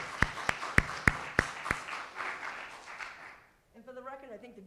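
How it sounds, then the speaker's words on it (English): An audience at a high school performing arts awards night applauds the senior class: a few sharp, separate claps grow into a brief wash of clapping that fades, and then a voice speaks. "So give them a nice round of applause"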